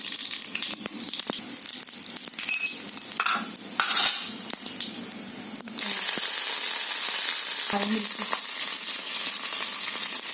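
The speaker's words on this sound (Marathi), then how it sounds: "आता मी जिरे मोरी तडका" Clattering and stirring in a pan gives way to a loud, steady sizzle as cumin and mustard seeds hit hot oil for tempering, close up and continuous.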